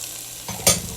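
Red peppers, sweet corn and green onion hit melted butter in a pan, a burst of sizzle and stirring rising sharply partway through, close and loud, with no talking.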